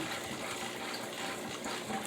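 Water siphoning through a hose fitted with a sock over its end during a water change on a Daphnia Moina culture tank, a steady close gushing flow running evenly throughout with no talking.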